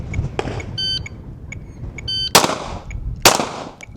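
Three sharp pistol shots ring out at an outdoor range during a doubles shooting drill, the first alone and the last two close together, with short electronic timer beeps between them.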